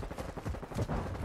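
Rapid bursts of gunfire from the disco gun in Modern Warfare 2, fast and loud, filling the short moment with dense crackling shots.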